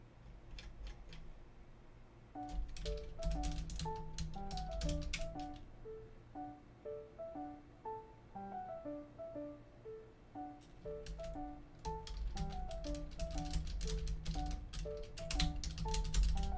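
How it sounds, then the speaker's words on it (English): Typing on a computer keyboard, bursts of quick clicky keystrokes broken by short pauses, played alongside steady game background music. "Hold on, I'm typing something."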